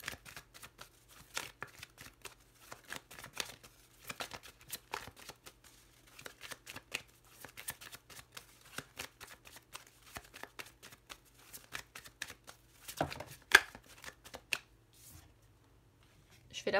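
Lenormand oracle cards being shuffled by hand: repeated soft riffling flutters and light card slaps in quick bursts, faint and close, continuing throughout with a brief louder flurry near the end.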